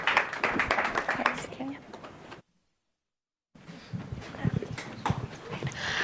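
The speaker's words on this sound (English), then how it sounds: "So let's give a big round of applause." Audience applause at the Digital4Good Summit: dense clapping for a couple of seconds, then a break in the sound and more claps and crowd noise.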